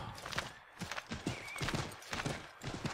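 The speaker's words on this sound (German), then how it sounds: "Auf einem Pferd sprinten, ja," Rapid rhythmic hoofbeats of a galloping horse in Assassin's Creed 3, close and fairly loud, with a brief whinny mixed in.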